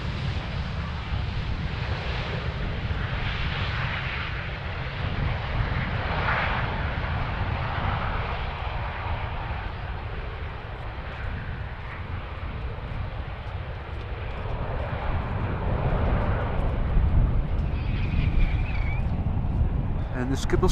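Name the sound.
KLM Boeing 737 landing at Amsterdam Schiphol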